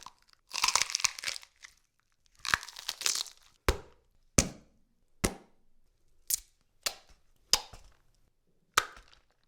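A knife slicing through a frozen vegetable gives a series of sharp, crisp crunches, two longer grinding bursts followed by about six separate close cracks spaced roughly a second apart, with silence between.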